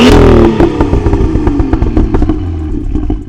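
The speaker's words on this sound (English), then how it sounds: "That's the exhaust flap fully open, and it really brings this car to life" Loud, raspy exhaust from a BMW M2 F87 with a Dinan resonator delete in Sport Plus mode, the valve flap fully open, revving hard then crackling and popping in rapid bursts as it settles, close to the tailpipes.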